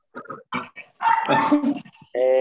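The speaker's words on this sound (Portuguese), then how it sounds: "Bora dar comida para esse cachorro aí, rapaz." A dog barks several times in short bursts, close and loud, ending with a longer yelping, whining cry.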